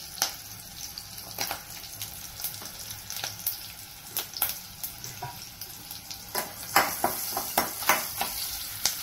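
Asafoetida, turmeric and spices frying in oil over low heat for bhendi masala, with a continuous close sizzle and repeated sharp spoon scrapes against the pan that grow more frequent toward the end.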